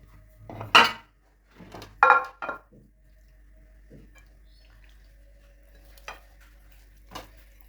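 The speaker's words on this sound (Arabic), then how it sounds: "وغادي نخلط داكشي مزيان" A spoon scrapes and clinks in a pan as an onion mixture, fried golden with bay leaves, is stirred for a home oven-baked fish dish. A few loud scraping strokes come close together at first, then fade to faint occasional clinks.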